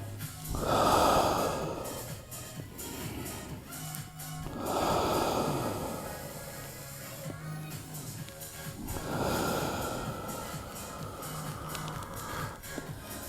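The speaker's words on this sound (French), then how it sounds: "Je souffle." Forceful exhalations during a glute-toning workout stretch, three broad breathy bursts evenly spaced a few seconds apart, close and fairly loud with quieter gaps between.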